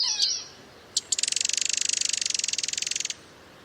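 Common yellowthroat warbler singing nearby, a couple of high sharp notes followed by a long, rapid, even trill of repeated bright chirps lasting about two seconds before stopping abruptly.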